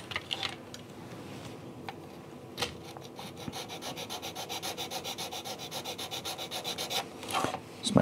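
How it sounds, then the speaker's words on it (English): Hand filing on a plastic mount during an N64 UltraHDMI kit install, a steady scraping rasp of rapid, even strokes close up, with a few brief pauses and knocks. "finish that off with a little bit more filing and get that to sit perfect"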